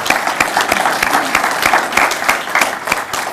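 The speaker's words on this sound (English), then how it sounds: "So let's give them a round of applause" Audience applause at a lecture series evening, a dense steady wash of many hands clapping close and loud for the full stretch, with no talk over it.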